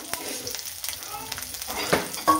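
Green chilies sizzle and crackle steadily in hot tempering oil with bright spitting bursts, a couple of louder pops near the end, no voices.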